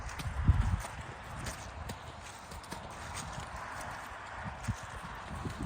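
Brabançon draft horse hooves clip-clop in a loose, uneven rhythm at moderate distance, with a louder thud near the start and quiet ambient noise throughout.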